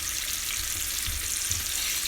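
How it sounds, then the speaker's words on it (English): Stuffed pork loin searing in oil in a pan gives a steady, close sizzle that holds evenly throughout, with no talking over it. "Just gonna sear."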